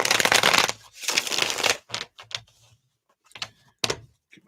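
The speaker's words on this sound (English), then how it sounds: "Give it a little shuffle." A deck of reading cards being shuffled during a live card reading session, heard as two long close riffling bursts followed by several short, crisp card snaps and taps.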